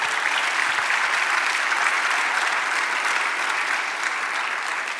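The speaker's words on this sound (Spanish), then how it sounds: "Dele un aplauso al Señor." A Spanish-language church congregation claps together in sustained, even applause at a steady, moderately loud level, with no voices above it.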